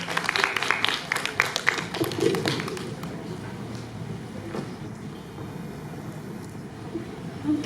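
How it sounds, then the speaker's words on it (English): Audience at a mental health event claps, a burst of dense handclaps at the start that thins into scattered taps and fades under low room noise. "Let's give a round of applause to everyone again."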